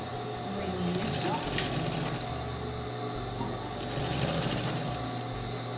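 Sewing machine running steadily as it stitches a simple straight seam on a cotton-candy themed fabric pouch, with a brief backstitch at the start; continuous close mechanical whir with slight speed changes.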